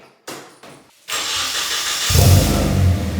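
A car engine cranks in a few short bursts, catches, and settles into a steady, loud idle with a low rumble.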